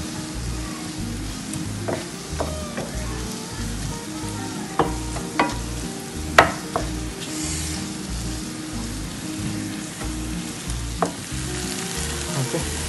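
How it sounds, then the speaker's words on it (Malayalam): Tomato and onion sauté in a pan for an ostrich egg bhurji, giving a steady close sizzle and frying crackle with intermittent scraping stir strokes throughout, no voices. "അതിനുശേഷം നല്ലപോലെ വഴറ്റുക."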